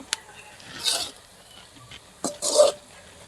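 Spinach palya being fried and stirred in a pan, with two short bursts of scraping and sizzling separated by a quiet gap, plus faint clinks in a close, quiet kitchen.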